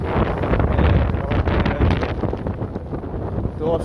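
Cold wind buffeting the microphone on an open van crossing a bridge over flooded land, a loud continuous roaring rumble with gusty fluctuations throughout.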